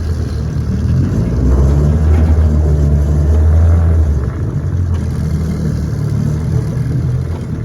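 Vintage outboard motor idling steadily in reverse gear after restoration with a new impeller and gear oil, a close, continuous low engine drone that swells slightly mid-clip, with no talk over it.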